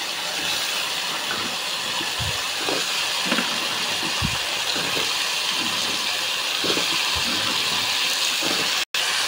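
Pumpkin pieces tumbling into a hot, salted oiled pan, bringing a steady, loud sizzling hiss throughout with a few soft thuds of pieces landing.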